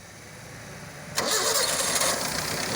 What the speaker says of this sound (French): nous allons tout d'abord démarrer le véhicule.